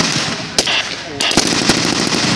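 Gunfire cracks during a Thai army live-fire military demonstration, several sharp distant shots and rapid pops over steady outdoor noise, with a voice commenting intermittently.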